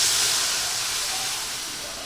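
Water poured into a hot pot of simmering taro stem and tilapia curry sets off a steady, close broadband hiss that fades slightly over two seconds, with no voices.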